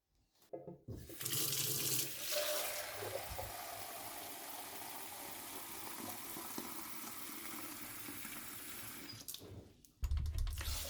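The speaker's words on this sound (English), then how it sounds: "pour water over the millet in the mixing bowl" Water from a tap pours steadily over millet grains in a mixing bowl, a continuous close rushing splash for several seconds, starting and stopping abruptly with brief quieter gaps at each end.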